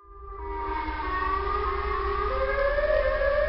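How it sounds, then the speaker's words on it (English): Siren Head's wailing siren call, a loud, sustained mechanical howl that swells in and slowly rises in pitch, heard alone with no voices. "did you just hear the Siren Head noise again?"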